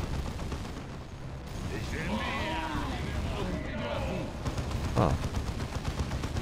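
Scattered gunfire and battle noise from the strategy game Warhammer 40K: Dawn of War II, a steady mid-level wash of combat sound with someone speaking over it and a sharper hit near the end.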